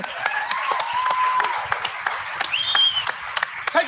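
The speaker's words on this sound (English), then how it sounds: "That's a round of applause." A small webinar audience applauds, with scattered, uneven claps and sharp individual hand strikes, while people talk over them throughout.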